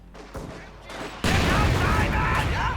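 Machine gun and rifle fire in a Company of Heroes 2 match, Soviet conscripts under fire, with mortar and rifle grenade fire around: a quieter opening, then a loud dense sustained burst of rapid gunfire and blasts.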